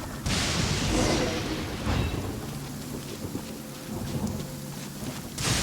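A thunderstorm rages in the Genshin Impact video game: heavy rain pours steadily while deep thunder rumbles and cracks loudly near the start, then rolls on in the background.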